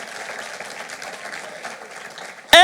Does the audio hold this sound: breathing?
no